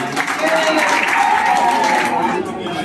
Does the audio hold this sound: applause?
yes